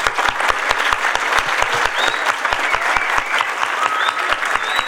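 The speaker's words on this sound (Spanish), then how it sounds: "sí que les agradecemos nuevamente a Aquiles, un aplauso." An audience applauds steadily after a talk on supplementary irrigation, a dense, even wash of many hands clapping that holds for the whole stretch without speech.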